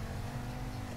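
A car driving toward a garage in GTA 5, a steady low engine drone held at constant loudness through a brief stretch with no talk.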